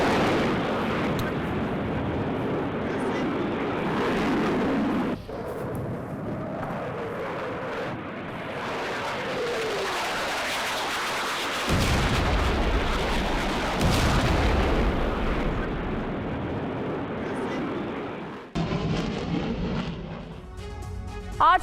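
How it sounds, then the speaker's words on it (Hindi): Bombardment explosions from a Sukhoi Su-25 air strike on a position in Ukraine: distant rumbling booms and blasts in a continuous, muffled wartime soundscape with abrupt shifts. "सुखोई 25 ने यूक्रेनी ठिकाने पर की है बमबारी।"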